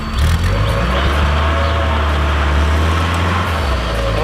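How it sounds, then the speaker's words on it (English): A gold Nissan 240SX rolling under its own power for the first time after sitting, its engine giving a loud, steady low rumble that holds evenly throughout. "This is the first time this car will have ever moved."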